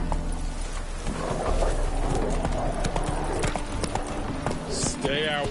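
Roach, Geralt's horse in The Witcher Wild Hunt, gallops with steady rapid clip-clop hoofbeats, loud and close, while game voices talk over it.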